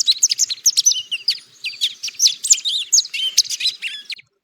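Goldfinches chatter in a dense, busy stream of high twitters, chirps and warbles, several rapid notes overlapping at a fairly close, steady level, with no voices.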